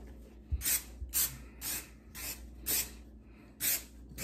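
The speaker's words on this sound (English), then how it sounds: "we can spray both on. They need to be sprayed anyway." Six or so short hissing bursts of aerosol spray onto designer shoes, each about a third of a second, repeated at a quick, fairly even pace.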